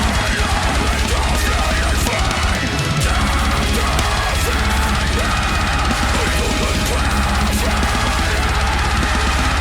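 A death-metal vocalist screams harshly over dense, loud blast-beat drums and distorted guitars, with the full mix continuous and saturated throughout.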